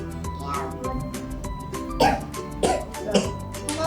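A child coughs in a few short, sharp bursts late in the moment, set against steady background music and household sound.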